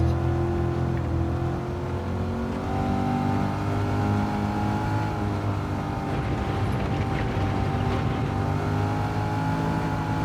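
A Corvette C8 engine drones steadily in Gran Turismo 7, a sustained mid-revving hum with shifting pitch and tone that holds continuously without any speech.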